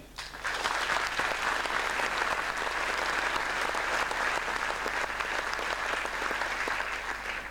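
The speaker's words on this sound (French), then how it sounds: "Je vous demande de bien vouloir les applaudir" Audience at a municipal New Year's greetings ceremony applauding local sports associations, dense steady clapping starting abruptly and sustaining evenly throughout, over a low background hum.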